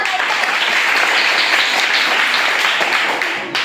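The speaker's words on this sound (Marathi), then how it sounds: "परत एकदा टाळ्या" A burst of enthusiastic applause from a crowd at a school quiz, loud and steady for a few seconds before tapering off slightly at the end.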